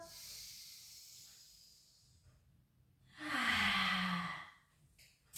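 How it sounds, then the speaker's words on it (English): Soft breathing during a Pilates shoulder rehab exercise: a faint airy breath, a pause, then one louder, longer hissing exhale close to the mic. "In breath. Out breath. Last one."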